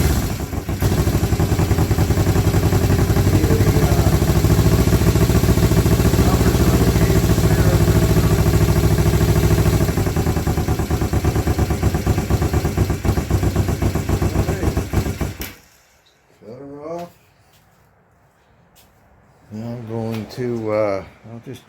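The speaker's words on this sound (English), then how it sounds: "I'm going to start the bike up, hopefully, and get these synced up. Okay, got the idling a little low right now." A Yamaha 400 Special motorcycle idles steadily up close for about fifteen seconds, its low engine clatter running slightly slow before it cuts off, then someone talks briefly.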